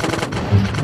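A sharp burst of rapid, crackling explosive pops from a video game motorbike tire bursting, short and loud.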